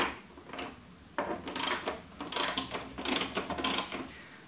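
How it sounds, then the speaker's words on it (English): Rapid bursts of clicking from a 10mm socket ratchet with an extension undoing the rear seat bolts on a Honda Africa Twin CRF1000 motorcycle, several close, loud runs of ratcheting separated by short pauses. "I'm using the 10mm socket and the extension to undo the rear seat."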